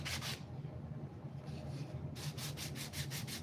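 A belt sander works across a wooden box lid, a steady continuous abrasive rasp with rhythmic pulsing strokes, loud and close, with no voices.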